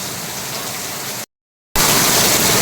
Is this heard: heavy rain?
yes